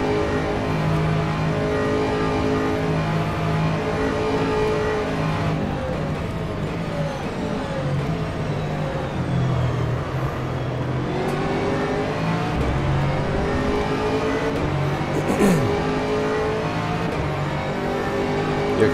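GT3 race car engines in rFactor at Imola, a steady loud drone of revving and shifting motors throughout, with pitch sweeping up and down as cars accelerate and brake in close traffic.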